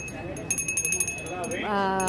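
A small handmade clay bell rings at a household-goods market stall, a few quick, light tinkling strikes followed by a ringing tone, with people talking nearby.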